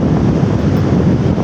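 Steady, full-band wind roaring and buffeting against the microphone at a seaside beach in General Nakar, Quezon, with a faint wash of surf beneath it; constant and close, with no talking.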